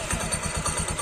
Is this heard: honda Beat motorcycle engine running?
yes